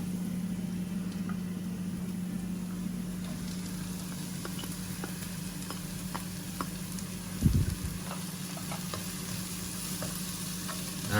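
Mushrooms fry in a hot wok for a mushroom and pea sauce, giving a steady, close, even sizzle throughout with one brief clatter near the middle.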